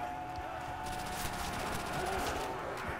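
Rapid gunfire from a Call of Duty custom zombies map set on a farm, a dense continuous stream of shots with no pauses, loud and close, with game ambience underneath.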